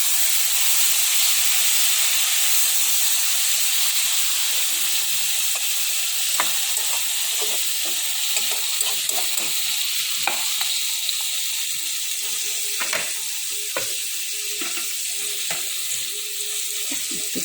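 Chopped ash gourd sizzles and hisses steadily in a hot pan, with a continuous bright frying hiss overlaid by intermittent scraping and clacking as a spatula stirs it.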